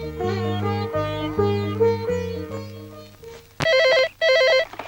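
A telephone rings twice in loud electronic bursts near the end, following a stretch of sustained melodic tones.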